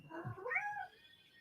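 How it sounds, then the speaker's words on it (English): A single short house cat meow, clear and close, rising then falling over about a second in a quiet room. "my cat's tripping right now."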